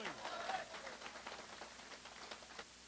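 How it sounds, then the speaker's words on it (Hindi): An audience clapping in a hall at a customer gathering, a soft, continuous patter of many hands heard from a distance with faint voices mixed in. "तालियां किसके लिए बज रहे हैं?"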